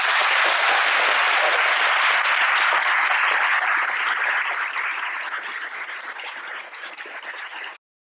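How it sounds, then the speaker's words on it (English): Sustained audience applause from a lecture crowd welcoming a Nobel laureate physicist to the podium in Sweden, dense and loud throughout, slowly thinning toward the end with no talking over it. "Please give him a big round of applause."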